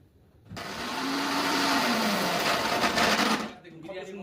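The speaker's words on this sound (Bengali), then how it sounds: "এসে গেছে মিক্সি, ছোট মিক্সি" A small kitchen mixer grinder whirs loudly and steadily for about three seconds, a high-pitched electric grinding hum that starts abruptly and cuts off.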